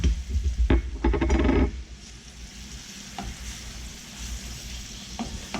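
Sherry and Worcestershire sauce for steak Diane sizzle in a hot pan, with a burst of loud stirring and scraping at first that settles into a quieter, steady sizzle with occasional clinks.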